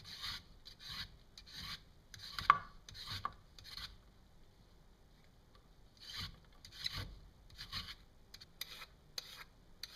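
Parsnips being peeled in a kitchen make quiet, close rasping scrapes in quick rhythmic bursts, with a short pause between two runs of strokes.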